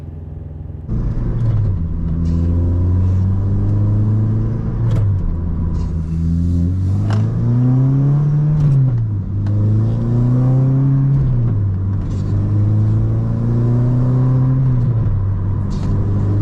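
A 9th-generation Honda Civic Hybrid with short-shifter cables pulls away on a test drive, its engine droning loud and close, revving up through gears with dips at each shift and a steady interior rumble.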